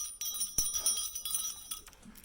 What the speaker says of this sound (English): the bell still rings for me, as it does for all who truly believe